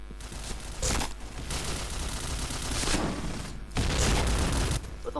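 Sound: gunfire in the video game PointBlank

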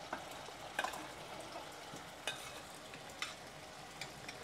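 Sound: boiled goat liver added to frying masala

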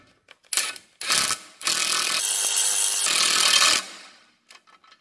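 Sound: impact gun tightening sway bar link on VW Jetta

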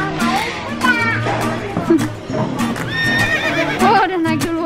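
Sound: horse neighing and hooves at safari park

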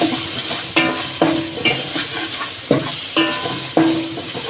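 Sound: sautéing curry leaves and coriander leaves in a pan

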